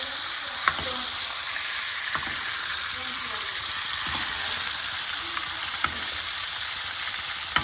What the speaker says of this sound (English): take our big spoon and take our butter, herbs, garlic, and incorporate all that flavor in our steak